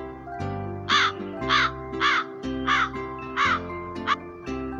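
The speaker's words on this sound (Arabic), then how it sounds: "غراب" A crow caws six times in a steady rhythm, loud and close, each harsh call standing out above an ongoing musical accompaniment.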